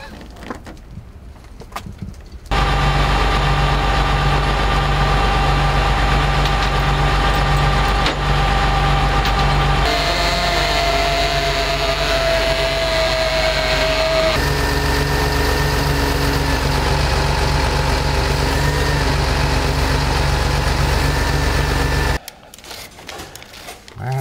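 A steady low engine rumble idles continuously for about twenty seconds, close and loud, with a shifting whine partway through, then cuts off.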